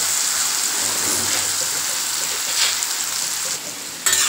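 Pieces of elephant foot yam coated with salt and chili powder sizzle steadily in hot oil, a dense, even hiss with faint crackles, close and uninterrupted, with no talking.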